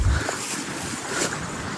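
Water flows in a steady broadband rush outdoors, mixed with wind buffeting the microphone, fairly close and continuous, with no voices.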